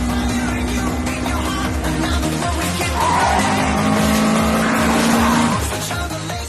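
A high-revving Toyota 86 engine screams through an anime mountain race, a loud sustained engine whine over tire squeal that swells louder midway, then eases off.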